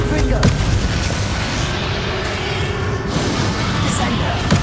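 Confringo spell blasting during the final boss fight against Ranrok in Hogwarts Legacy, a dense, continuous roar of explosive rumble with sharp cracks near the start, loud and close, with battle noise layered throughout.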